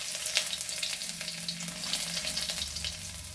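Ginger and curry leaves fry in hot oil in a pan, making a steady close crackling sizzle with small pops throughout.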